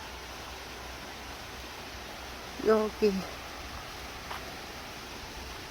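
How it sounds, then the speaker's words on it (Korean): Water rushes in a steady, even hiss like a nearby stream at Byeongmogan campground in Anyang, South Korea, while a voice briefly speaks a couple of words in Korean over it. "물소리가 나고"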